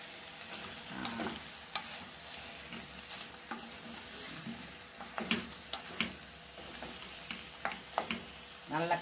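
A spoon stirs sweet corn frying in a pan with pepper, giving soft, repeated scraping strokes over a continuous quiet sizzle, close up.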